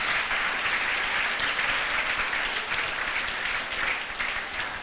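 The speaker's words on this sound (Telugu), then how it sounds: "మీ యొక్క చప్పట్లతో వారికి అభినందనలు తెలియజేయండి." A church audience at a Christ the King feast golden jubilee program in Thadipatri applauds with a dense, even wash of clapping that holds steady for several seconds, moderately loud, with no voices over it.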